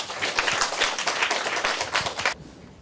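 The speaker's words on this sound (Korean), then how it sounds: "뜨거운 박수로 환영해 주셔서 좋겠습니다." A lecture audience claps in welcome for a visiting speaker, a brisk burst of many hands lasting a couple of seconds and then cutting off abruptly into near silence.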